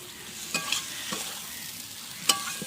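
Fried jackfruit and potatoes being sautéed in spice paste, a soft, steady sizzle broken by a few sharp spatula scrapes against the pan, no voices.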